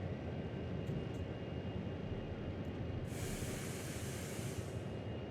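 A diesel locomotive in Train Sim World revs up after a cold start, a steady low rumbling drone that stays loud and continuous, with a bright hissing rush joining in partway through and no voices.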